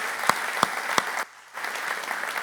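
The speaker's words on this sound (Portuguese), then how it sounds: "Vamos aplaudir as mulheres aqui nesse auditório" An audience in a church auditorium at a New Year's Eve service applauds the women present, with steady dense clapping for about a second, a brief hush, then the applause picking back up.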